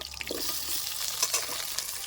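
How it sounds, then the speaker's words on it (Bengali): Potato pieces sizzle steadily in hot mustard oil in a kadai on a stove, a continuous bright frying hiss with a few soft stirring knocks throughout. "তেল গরম হয়ে গেছে আলুগুলি বেজে নেব"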